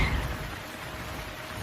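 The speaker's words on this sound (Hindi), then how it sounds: "उनके ऊपर बारिश का पानी आ रहा था और वो भीग रहे थे" Rain falls in a steady, dense hiss, loud and continuous, with a low rumble underneath and no voices.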